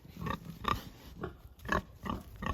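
Hemp pig on a farm grunting and oinking in a run of short, close snorts and grunts at an uneven rhythm, fairly quiet, with no talking.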